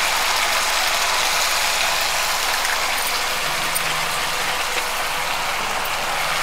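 Chicken sizzling and frying hard in a pan with a splash of vinegar, a steady loud crackling hiss that runs continuously without a break.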